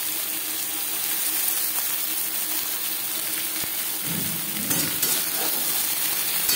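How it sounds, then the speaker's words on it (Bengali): Brinjal (eggplant) pieces frying in oil in a pan over a high-to-medium gas flame, giving a steady close sizzle with a few louder crackling bursts toward the end. "বেগুন ভাজবো হাই টু মিডিয়াম ফ্লেমে।"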